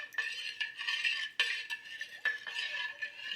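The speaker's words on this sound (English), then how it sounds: "So I'm going to add about a tablespoon or so of citric acid, and we'll stir that up." A spoon stirs citric acid through a bowl of peeled russet potatoes, giving repeated close scraping and clinking strokes against the bowl in an uneven rhythm, with no voices.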